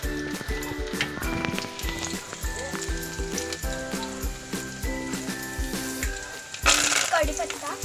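Garlic sizzles and spatters in hot oil in a kadhai, a steady crackling fry with sharp pops and metallic clinks, and a louder hiss near the end.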